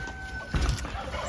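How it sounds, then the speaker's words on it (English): Bresse chickens and their rooster in a homestead coop, clucking with a short, louder burst of crowing or calling partway through, fairly close against a steady background hum. "So here you go, the Bresse chickens. The rooster over there in the back"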